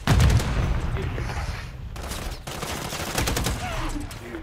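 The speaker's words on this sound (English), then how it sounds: "Oh, sentry gun got him." Sentry gun in a multiplayer shooter video game, firing a loud, sustained burst of rapid automatic gunfire right at the start, then continuing beneath game noise and faint voices.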